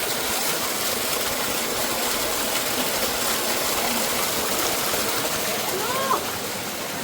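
Water runs steadily from three spouts of a cold mountain rock spring on a hillside route, a continuous close splashing rush that fills the whole stretch, with a faint voice underneath.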